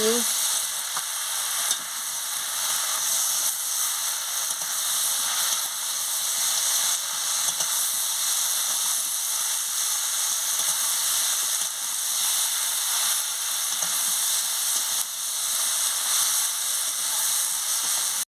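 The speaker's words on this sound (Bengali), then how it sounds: "সোয়াবিনটা সিদ্ধ করে ভেজে রেখেছিলাম, দিয়ে দিচ্ছি। দিয়ে মশলার সঙ্গে ভালো করে কষিয়ে নিচ্ছি।" Potato, pointed gourd and boiled, fried soybean chunks cooking down with spices in a pan, giving a loud, steady, unbroken sizzle close up with little stirring noise and no voices.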